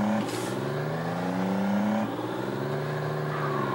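A military vehicle engine in Conflict Desert Storm revs loudly and close, climbing in pitch, dropping briefly as it shifts, then droning on, heard alone without talk.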